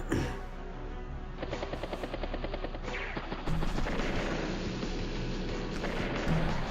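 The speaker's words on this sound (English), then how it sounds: "Rocket does take a shot there." A rocket unit firing a shot in the video game Advance Wars: Days of Ruin: rapid rattling bursts of gunfire and booms over a steady loud mechanical backdrop, with louder hits partway through.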